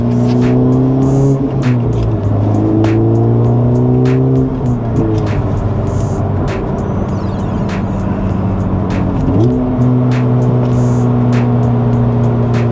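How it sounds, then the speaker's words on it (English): Honda Civic Type R FL5 fitted with an AWE exhaust, revved hard and held in a loud, close, steady engine drone with several rises and drops in pitch as the throttle changes, with no talk over it. "The AWE exhaust does sound pretty good."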